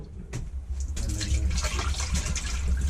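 Water rushes into a newly installed toilet tank as it refills, a steady close gushing hiss that starts with a thump and holds for several seconds.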